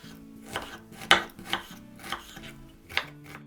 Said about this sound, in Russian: После этого быстро нарезаю лук.